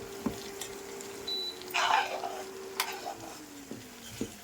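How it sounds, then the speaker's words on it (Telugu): A tempering for gongura and dried prawn pickle sizzles in a pan. Its low crackle swells into a brief loud hiss as the leaves and prawns go in, then eases back, while a thin steady tone hums underneath. "తాలింపు బాగా వేగిపోయిందండి. ఇప్పుడు గోంగూర ఎండ్రాయిలు వేసేసుకుందాం."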